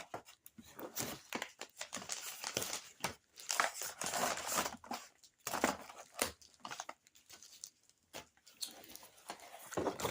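Cardboard packaging being torn and pulled apart by hand, irregular crinkling and tearing bursts close up, with short pauses between rips.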